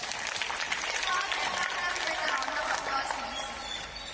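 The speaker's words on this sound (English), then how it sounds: "Big round of applause, please." Audience applause at a college orientation day ceremony at an engineering college, a steady dense patter of clapping that runs evenly through the whole stretch at moderate level.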